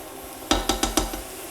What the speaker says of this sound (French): On n'oublie pas ici de mélanger donc, la poêle pour éviter que ça crame.